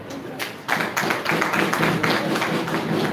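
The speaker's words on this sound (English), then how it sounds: "I think he deserves that applause" Audience applause for Governor Adegoke during a state working visit, steady dense clapping sustained throughout at moderate level with no talk.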